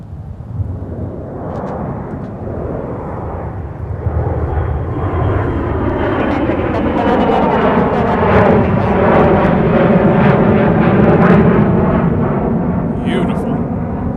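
A Gulfstream business jet takes off at Minneapolis–Saint Paul airport: a rising, powerful engine roar with rumbling and a swelling whine that builds and holds loud, heard from the ground.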